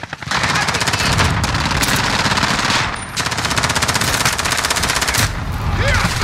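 Sustained automatic machine gun fire in Call of Duty Modern Warfare, long dense bursts of rapid shots with a short break near the middle, loud and close.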